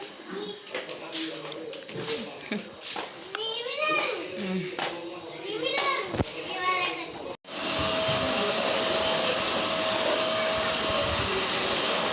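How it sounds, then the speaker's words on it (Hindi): A vacuum cleaner runs loud and steady in a drawing room at home, starting abruptly partway through after a stretch of children's voices and household talk, then droning on continuously at close range. "तो मैंने उसको वैक्यूम खोल दिया था और फिर वो थोड़ा सा वैक्यूम मार रही थी"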